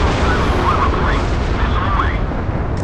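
Warship weapons in the Modern Warships naval combat game boom and rumble in a dense, continuous barrage, loud and close, with no talk.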